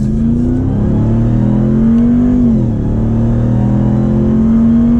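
A 2023 Ram TRX pickup truck engine accelerates with a loud, steady drone, rising in pitch, then briefly dipping at an automatic gear shift before pulling on, heard from inside the cab.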